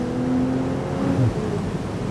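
A 700-horsepower turbocharged car engine in Sport Plus mode, a loud close low rumble rising and falling in pitch, with a brief throaty surge near the middle.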